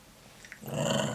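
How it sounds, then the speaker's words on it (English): A small dog growls low and close for about half a second after a brief quiet lead-in, the rumble swelling and holding steady with no talking over it. "That is my dog."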